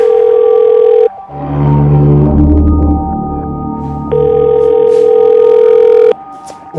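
A telephone call rings unanswered, steady ringback tones sounding in two long bursts separated by a short gap, loud and close through the handset with a low hum underneath.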